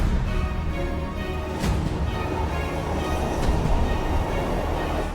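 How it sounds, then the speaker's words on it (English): Steady rumble and rattle of a train rolling along the rails, heard from inside a carriage, with occasional sharper clacks and no talking. "I'm on the train, yeah."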